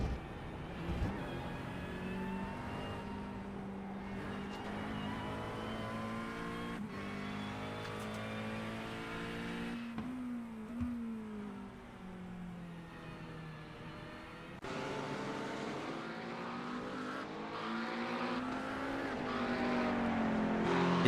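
McLaren race cars in a sim racing game, engines droning and revving steadily through gear changes, with several cars overlapping at close range and the pitch rising and falling continuously, no voices.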